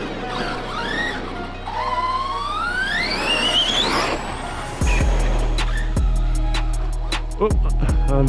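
A radio-controlled monster truck whines as its electric motor revs higher and higher, then slams into a wall with a loud thump. Several sharper knocks and clatters follow over a steady outdoor rumble.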